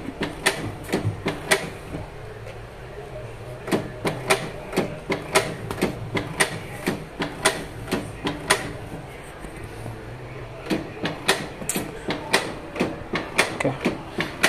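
An ink tank printer printing a page makes a steady run of sharp mechanical clicks and clacks over a low whirring motor, fairly close and continuous.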